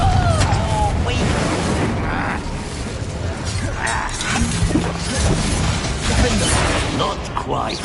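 Confringo blasting spell cast in the video game Hogwarts Legacy, heard in a dense, loud battle mix of crashes, bursts and booming impacts with voices shouting over the top.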